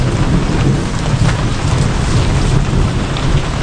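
Heavy rain pours down in a dense, continuous hiss while loud thunder rumbles close overhead, the storm filling the whole short stretch with no voices.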